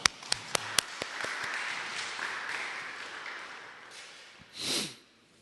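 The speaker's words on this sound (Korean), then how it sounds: "우리 예배를 받으신 하나님께 영광의 박수 올려드리겠습니다" A church congregation applauds during a Sunday worship service, beginning with a few sharp claps that swell into a steady wash of clapping before fading out, followed by a brief breathy noise.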